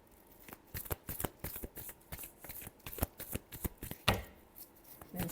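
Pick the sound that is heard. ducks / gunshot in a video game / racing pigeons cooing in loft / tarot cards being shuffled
tarot cards being shuffled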